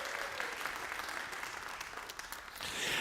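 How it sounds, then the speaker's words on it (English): An audience at an open-stage variety show applauds the performers. The clapping is steady and fairly faint, with a slight swell at the end. "give all of our participants a round of applause"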